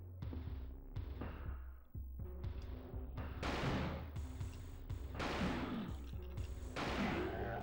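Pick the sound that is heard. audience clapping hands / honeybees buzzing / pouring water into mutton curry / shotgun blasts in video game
shotgun blasts in video game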